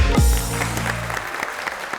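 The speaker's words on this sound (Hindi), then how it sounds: "भरपूर तालियों में इस्तकबाल कीजिएगा" Applause from a studio audience greets the host of a Hindi-Urdu talk show as he walks on, a burst of clapping that starts loud and thins out over two seconds while a low musical sting fades beneath it.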